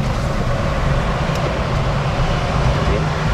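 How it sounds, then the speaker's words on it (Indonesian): Loud, steady Jakarta street traffic rumble heard with the cabin of a Suzuki XL7 Alpha Hybrid 2024 opened during a test drive, a dense continuous roar of passing vehicles, with talk over it. "Bisingnya Jakarta ya. Bising banget kan?"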